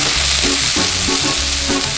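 Pre-cooked shrimp sizzling on a Blackstone griddle, a loud, dense, close frying hiss with faint rhythmic scraping pulses underneath.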